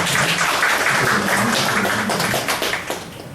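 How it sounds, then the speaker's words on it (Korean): Congregation applause during a New Year's Eve church service, a steady wash of clapping that thins toward the end. "박수 한 번으로 하야겠습니다"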